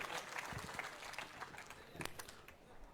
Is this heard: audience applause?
yes